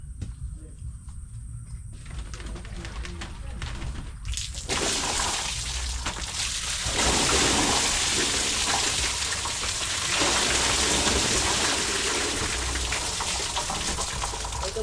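Water starts gushing a few seconds in and keeps running steadily, a loud broadband splash like a tap left open, close by.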